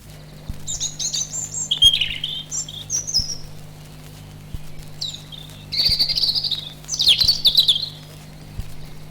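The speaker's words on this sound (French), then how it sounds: "écoutez bien cet oiseau" Bright chirping birdsong comes in several short bursts over a steady low hum with faint regular clicks.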